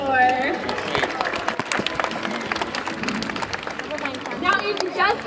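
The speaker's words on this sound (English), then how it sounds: "we think that our rescue team deserves a big round of applause for." Audience applause at a SeaWorld show, scattered clapping mixed with crowd chatter and excited voices, moderately distant and busy, with people talking over it.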